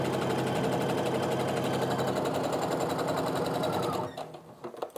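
Sewing machine stitching quilt top rows together, a steady rapid mechanical whir running close and loud for about four seconds before stopping abruptly.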